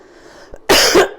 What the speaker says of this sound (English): Excuse me for coughing.